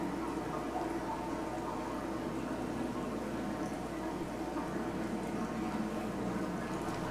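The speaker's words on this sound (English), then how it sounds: "it's just a very echoey sound of water there" Water echoes through a cave in the video game Dear Esther as a steady, hollow wash with a faint bubbling texture, continuous and fairly quiet, with no voices.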